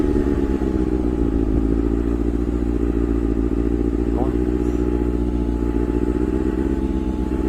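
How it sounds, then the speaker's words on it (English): A motorcycle drives past on a street, its engine a steady, loud, continuous drone with some clatter, while people talk over it. "that dude had to drive by with that bike"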